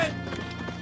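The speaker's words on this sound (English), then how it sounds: "Supply wagon!" A horse-drawn supply wagon rolls up to an army camp, horses' hooves clopping in a quick uneven rhythm amid a murky background of camp noise, moderately close, with a brief sharp sound at the very start.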